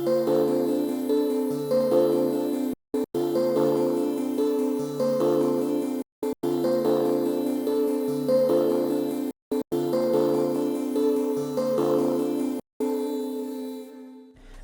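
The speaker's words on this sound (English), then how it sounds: "another Serum preset, and this is gonna be the Pluck TF from the Fragile Serum Bank by Sunboy." A bright plucky synth melody from the Serum Pluck TF preset of the Fragile Serum Bank, repeating a four-bar phrase with short gaps between bars over a low bass line, full of high-end shimmer.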